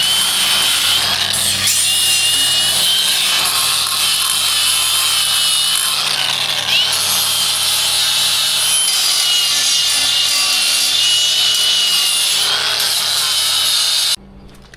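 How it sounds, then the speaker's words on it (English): A power tool grinds down welds on a steel swing-out tire carrier, giving a loud, steady, high-pitched whine that runs almost unbroken for the whole stretch before cutting off abruptly near the end. "Now we're going to grind down all the welds so it looks like I sort of know what I'm doing."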